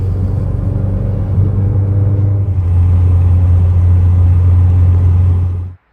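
A car cruising home from the Import Face Off show at New Hampshire Motor Speedway, a steady loud low engine drone and road rumble throughout that cuts off abruptly at the end.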